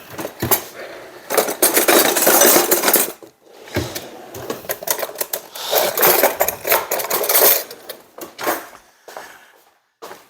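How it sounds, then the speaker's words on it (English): Metal spoons and utensils clatter and clink while another spoon is fetched during pie making, in bursts of rattling and scraping with short pauses, close and fairly loud. "Let's get another spoon here."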